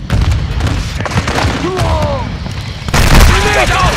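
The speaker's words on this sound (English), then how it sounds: "Throwing grenade!" A grenade blast rings out in Call of Duty: Modern Warfare 2 amid continuous battlefield noise and gunfire, with a heavy burst near the end; game voice callouts sound under the din.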